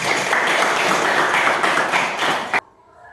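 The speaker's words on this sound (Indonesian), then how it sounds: "Aplaus sebelumnya" A classroom of children claps together in a short burst of brisk applause that stops abruptly, leaving near silence.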